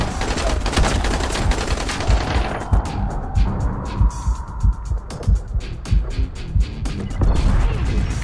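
Enemy gunfire in the zombie survival game Dying Light, heard as loud rapid bursts. A dense volley opens the clip, then sharp distinct shots follow one after another at an uneven pace.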